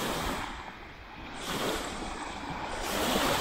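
Sea waves wash along the Tuscan Riviera coast in a steady, broad surf rush that swells and eases, mixed with some wind noise.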